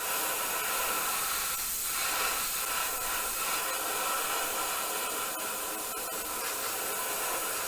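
Black paint hisses steadily from a spray can or airbrush onto a 1/24 scale Spitfire Mk.IXc model, a continuous close hiss with no pauses.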